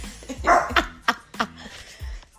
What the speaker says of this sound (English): Oh, Lord, there's a dog here.